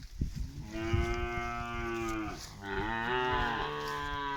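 A cow on a breeding-season farm gives a long, loud, close moo that dips briefly and then carries on, a deep drawn-out call with no talk over it.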